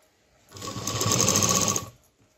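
A sewing machine stitches a homemade tiffin bag, one short run of rapid, even whirring that starts and stops cleanly, close and fairly loud.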